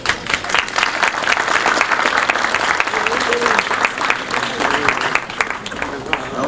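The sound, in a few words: audience applause for veterans' families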